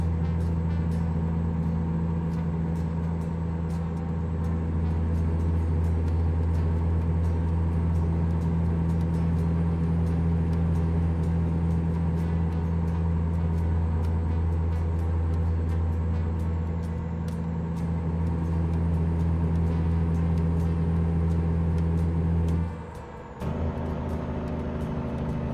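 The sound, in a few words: heavy duty 3406 truck engine running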